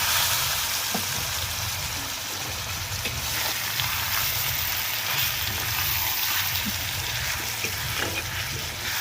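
Marinated mutton pieces sizzling in a little oil, a steady, moderately quiet crackle and hiss that continues evenly throughout with no talking.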